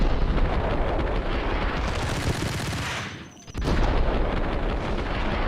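A grenade blast in the Max Payne video game, a loud sustained roar of explosive rumble and crackle that dips briefly into near quiet before a second heavy burst surges back, dense and close throughout.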